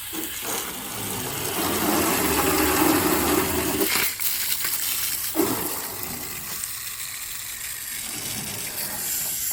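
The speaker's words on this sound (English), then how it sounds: "I just wanted to see what the spray of the nozzle looked like before we start." Water sprays hard from a Snap-on Jet Flusher nozzle in a steady hissing gush, cutting off briefly and restarting in a couple of short bursts before a quieter trickle, with no talking.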